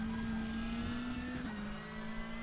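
Lada race car engine in the WTCC 13 sim racing game at Moscow Raceway, a steady, loud, droning engine note held at high revs with a slight dip in pitch midway, with no voices.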